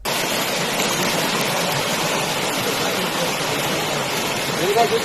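A forest stream rushes continuously over slippery rocks, a steady broad hiss of flowing water, close and fairly loud, with no pauses.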